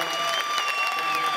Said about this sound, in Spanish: Gente, por favor, un aplauso para todos los patrocinadores de TLP.